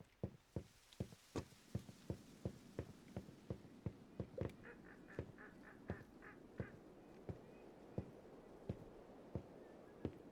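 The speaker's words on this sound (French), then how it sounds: "Il y a trop d'oiseaux." Cartoon geese and ducks from the video game Flock Around honk and quack in a steady rhythmic series of sharp calls, with a brief burst of higher chirping in the middle, all fairly loud and close.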